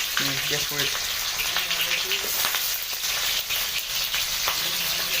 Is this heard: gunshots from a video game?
no